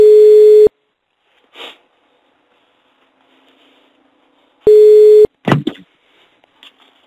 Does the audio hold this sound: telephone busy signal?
yes